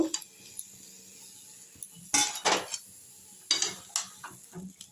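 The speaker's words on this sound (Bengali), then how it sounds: "দিয়ে একটু নেড়ে নেবো, ভালো করে কষিয়ে নেব" Mixed vegetables stirred and fried in a pan for a restaurant-style mix veg sabji, with a faint sizzle under scattered clinks and scrapes of a spoon against the pan in short bursts.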